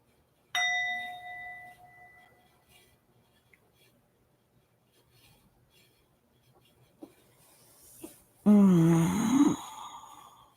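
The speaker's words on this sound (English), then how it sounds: "at the sound of the bell, we're complete" A single meditation bell strike rings out clearly at the close of a sitting session and decays slowly into silence, followed by faint rustles and a short vocal sound.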